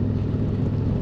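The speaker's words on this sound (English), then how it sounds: "I'm in sixth gear, Pat, lugging it and" 2024 Harley-Davidson Road Glide V-twin engine lugging in sixth gear, giving a steady, deep, loud rumble mixed with wind rush for about a second.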